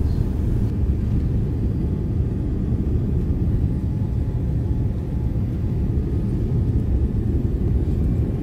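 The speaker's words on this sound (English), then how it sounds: "We are descending, preparing for landing." An Oman Air passenger airplane descending to land at Doha, Qatar, heard from inside the cabin as a steady, loud low-frequency engine and air rumble that stays constant throughout, with no speech.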